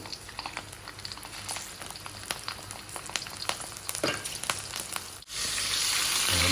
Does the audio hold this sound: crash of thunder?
no